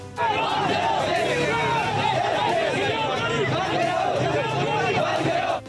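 Protesting students chant slogans as a large crowd, rhythmic shouted voices rising and falling together in a loud, continuous outdoor roar.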